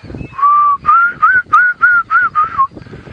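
A Diederik cuckoo calls on a sunset safari drive, a loud clear series of about seven rising whistled notes in quick rhythm, close and alone with faint background noise.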